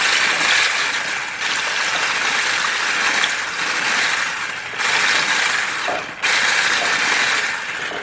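An electric whisk on its slowest speed beats pudding mix and milk in a bowl, giving a loud, steady whirring rush close by, broken by a few brief dips where the beaters shift.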